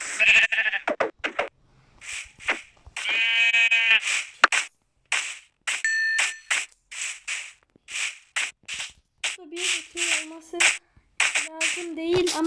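Repeated sheep bleats from Minecraft come in quick bursts, one after another, mixed with short clicks and brief squawky animal calls, close and clear.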